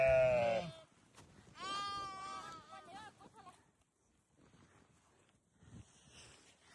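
Sheep bleat loudly at close range on a herding day, harmonic calls at the start and again around two seconds, with a shepherd's voice shouting and fainter flock sounds trailing off.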